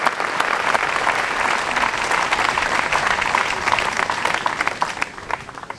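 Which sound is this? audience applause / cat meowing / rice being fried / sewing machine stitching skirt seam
audience applause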